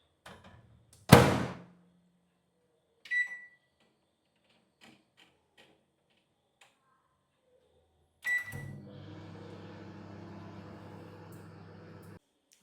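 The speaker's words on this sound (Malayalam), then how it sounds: "നമുക്ക് ഓവനിൽ വെച്ച് കൊടുക്കാം." A microwave oven heats pasta, with a sharp thunk as the door shuts, a short beep, then a steady low hum that runs on alone to the end.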